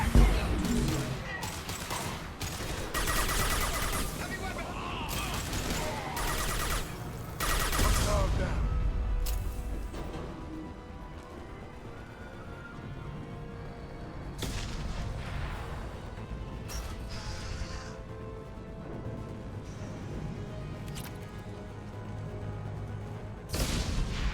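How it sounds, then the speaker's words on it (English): A video game battle rages with dense bursts of gunfire and heavy booming explosions, loud and rapid in the first half, then thinning to scattered shots and rumbles, with a voice talking briefly. "There's explosions are going everywhere."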